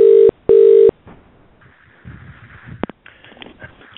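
Two long, loud steady telephone tones sound during a call transfer, then a stretch of faint line noise with quieter tones and a couple of sharp clicks, with no voices.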